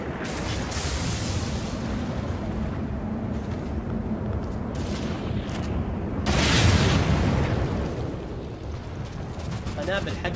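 Bombs in the online shooter Ghost Recon Phantoms go off as dense, rumbling booms over a continuous roar of game noise, with a heavier blast midway and a voice talking throughout.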